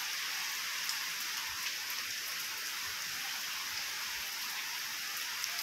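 Continuous rain pours down in a steady, even hiss with faint scattered drips and no voices.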